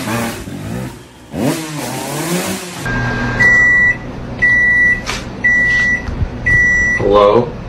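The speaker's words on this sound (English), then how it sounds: "My microwave's broken." Broken microwave oven sounding four evenly spaced, steady electronic beeps, loud and close. A noisy, engine-like rumble with sweeping tones comes before them.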